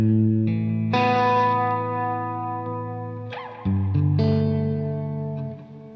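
Electric guitar through an Ethereal reverb pedal, sustained chords swelling into a lush ambient wash with long shimmering tails and a chord change midway, loud and without speech.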